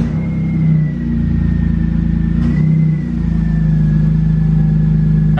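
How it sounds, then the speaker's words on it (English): A BMW E46 car at a repair shop starting and idling, its engine settling into a steady low rumble with a slight rise partway through and a thin whine running above it, close and loud with no talking. "So let's go ahead and turn on the car."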